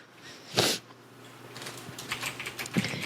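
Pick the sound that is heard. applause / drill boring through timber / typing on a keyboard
typing on a keyboard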